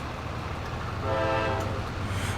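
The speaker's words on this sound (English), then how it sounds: "Yay, another train." A train passes in the Farming Simulator 22 video game on the Midwest Horizon map, a steady rumble that swells as a sustained horn tone sounds midway, with no talk.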